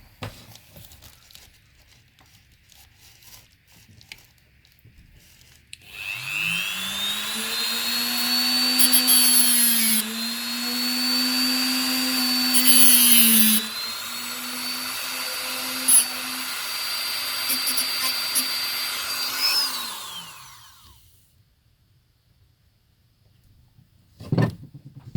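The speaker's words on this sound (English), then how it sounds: "might have to do a bit of tidying up with the Dremel" A Dremel rotary tool grinds rough edges on model railway track, a high whine that spins up, holds steady for about fourteen seconds with slight pitch shifts under load, then winds down.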